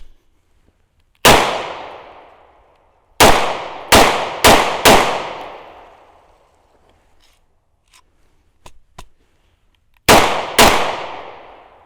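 Hi-Point C-9 pistol fired outdoors after a mud test, seven loud sharp shots: one alone, a quick cluster of four, then a pair, each ringing briefly into silence.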